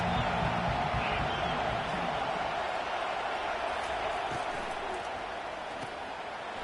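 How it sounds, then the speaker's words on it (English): Stadium crowd noise from EA College Football 25 during Michigan versus Nebraska: a dense, sustained roar of cheering that holds fairly steady and eases slightly toward the end. "They challenge this crowd to bring the energy, and I'd say they're doing that."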